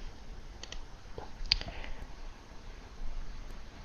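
A few sharp computer mouse clicks while selecting and copying an API key, quiet and close against a faint background hiss.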